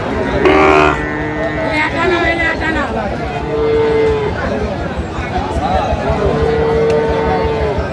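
Sahiwal bull calves at a busy cattle market in Brahmanbaria, Bangladesh, give several loud, drawn-out moos over a constant background of crowd chatter.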